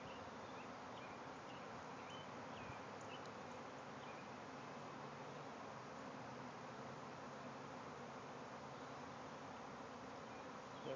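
Honey bees swarm out of a backyard hive, a dense, continuous buzzing drone from many insects filling the air steadily for several seconds, fairly quiet and without talk.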